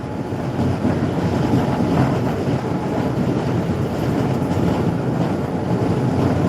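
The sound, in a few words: inside a moving train near Thrissur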